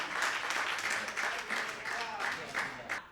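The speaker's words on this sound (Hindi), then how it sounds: "जनाब जोरदार तालियों से इस्तकबाल करें" Audience at an Indian mushaira applauding a poet, with clapping in rhythmic bursts at moderate distance and fairly quiet, with a voice faintly present beneath.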